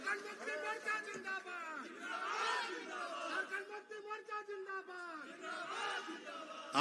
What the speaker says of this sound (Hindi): जोरदार तालियों से नारा लगाएं इनका